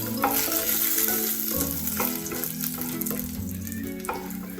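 Five dried red chillies frying in hot oil for a chow chow chutney, a dense steady sizzle with light stirring scrapes and some faint tonal hum underneath, close and constant, no voices.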